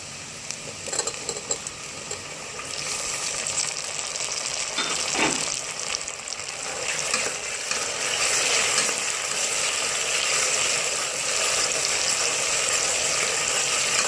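Tomatoes frying with garlic and ginger in a pan, a steady bright sizzle that builds after a quieter start and carries on continuously, with occasional stirring scrapes.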